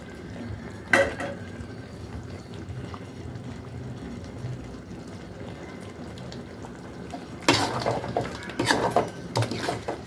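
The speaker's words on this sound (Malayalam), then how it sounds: "ഒന്ന് ഇളക്കി കൊടുക്കാം." Chicken biryani gravy is stirred in a pot, with a spoon clinking and scraping against the metal in a short burst, then a longer run of sloshing, clattering stirs after a quiet simmering stretch.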